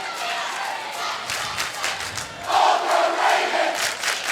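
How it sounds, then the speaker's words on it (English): A crowd at a Warsaw at Northwood high school boys basketball game cheers and claps in a standing ovation. The noise is broad and continuous and swells louder in its second half, with shouts rising above it. "he'll check out to a standing ovation"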